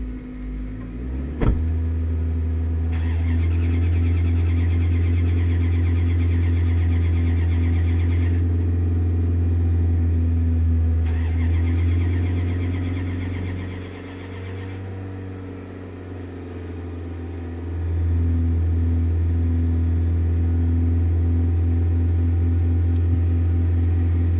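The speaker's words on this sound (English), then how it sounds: "rev my motor up a little bit" A car engine with a weak battery runs at a steady idle for the whole stretch, a low hum with faint rises as it is revved slightly. It dips and strains briefly near the middle, then levels off again. No one speaks.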